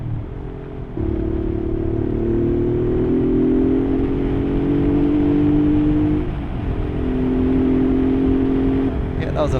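A Honda Bros Hawk GT motorcycle pulls hard through its gears close to the microphone. The engine tone climbs steadily, with shift breaks around one second and again past six seconds, and a loud drone under wind noise.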